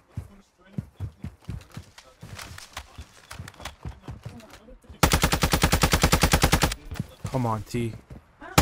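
Gunfire in Call of Duty: Modern Warfare 2: scattered single shots, then a long, loud rapid automatic burst followed by a few more rounds. Players talk briefly over the action.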